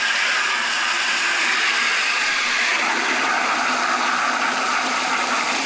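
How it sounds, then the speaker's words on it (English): Running water pours steadily over live crawfish caught from a small creek, a continuous broadband rush of water that stays even and close throughout with no talk. "hit them with water till the water turns clear"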